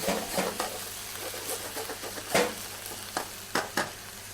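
Cherry tomatoes with seasoning sizzle in a frying pan for a seafood strozzapreti sauce, a moderate, steady frying hiss under a low hum, broken by a few sharper stirring scrapes near the end.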